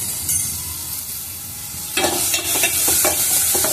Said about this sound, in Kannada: ಎಣ್ಣೆ ಕಾಗೋದಕ್ಕೆ ಈಗ ಈರುಳ್ಳಿ, ಹಸಿಮೆಣಸಿನಕಾಯಿ ಇವೆಲ್ಲನ ಹಾಕ್ಬಿಟ್ಟು ಚೆನ್ನಾಗಿ ಕೆಂಪಾಗುವಂತ ಬಾಡಿಸ್ತೀನಿ